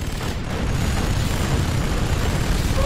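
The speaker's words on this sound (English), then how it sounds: "Warning, a particle cannon has been activated." A heavy, rumbling particle cannon blast from Command & Conquer: Generals roars continuously, a thick low-pitched explosion sound that holds steady for a few seconds.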